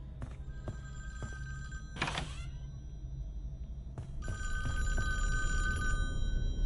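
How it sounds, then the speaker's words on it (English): A telephone bell rings in short repeated bursts over a low droning background inside the virtual cabin of the Friday the 13th video game, with a thud and a rattle between rings. "You have that creepy phone that's ringing"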